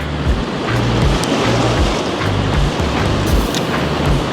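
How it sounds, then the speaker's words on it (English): Turbulent water rushes and churns at a discharge outlet, a loud, dense, continuous roar with a rumbling low pulse, heard close up and without speech. "I think this water is a little bit too turbulent."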